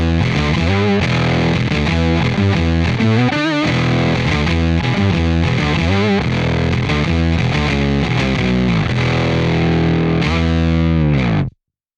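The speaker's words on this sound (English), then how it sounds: "this is an extremely powerful device that can add thickness, weight, and power to your guitar or bass tones" Thick, heavily distorted guitar run through a CorOS effects unit, its low end boosted into a weighty, chorused tone; loud, steady playing with chord changes for about eleven seconds before cutting off.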